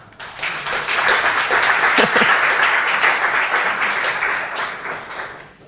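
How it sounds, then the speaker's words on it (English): A burst of enthusiastic applause from a conference talk audience, many hands clapping loudly together, swelling quickly and then slowly tapering off over several seconds. "That was worthy of applause, I thought."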